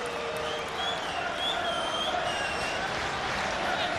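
A record Premier League crowd at Old Trafford for Manchester United against Tottenham cheers and roars in a steady, dense wash of noise that fills the stadium without a break.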